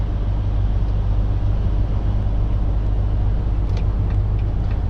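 Truck engine labouring in 12th gear at about 1000 RPM, a loud, steady low drone heard from inside the cab with no talk.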